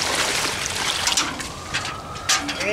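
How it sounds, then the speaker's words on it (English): Water poured into a bucket of cement and sand mix, Portland and masonry cement with sand for stone foundation repair, making a steady close trickling and splashing that runs for under three seconds. "And then I add the water"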